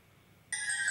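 Telephone ringing in a TV studio for a call-in quiz show, a single sudden electronic ring that starts about halfway through after near silence and holds steadily to the end.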